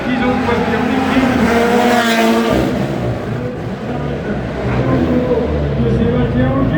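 Rally team cars lapping a circuit at a night celebration event, engines droning loudly and continuously with tyre noise, under crowd and announcer chatter.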